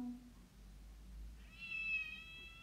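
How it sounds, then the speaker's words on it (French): A cat gives a single short, faint meow near the end of an otherwise quiet moment. "C'est un chat."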